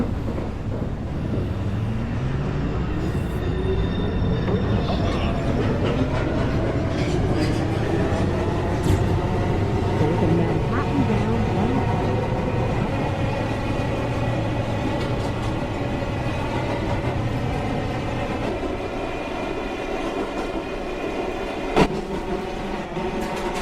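A New York downtown local 1 subway train running, a loud steady rumble with rising and falling wheel and motor whine and a sharp clank near the end, while recorded announcements play over it.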